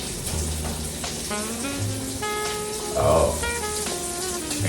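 A saucepan of jambalaya, rice with shrimp in vegetable oil, boils over on a stovetop. It hisses and sizzles steadily with a louder spitting burst partway through, while a voice speaks briefly over it.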